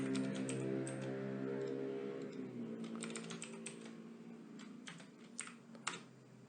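Quick, light keystrokes clatter on a computer keyboard while PHP code is edited, a steady stream of soft clicks over a constant low electrical hum, close and fairly quiet.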